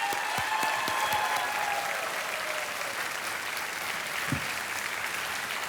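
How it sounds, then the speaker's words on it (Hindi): A studio audience on the KBC quiz show applauds a winner, steady dense clapping filling the whole stretch at an even, sustained level with no voices over it. "तालियां बजती रहें विनर के लिए।"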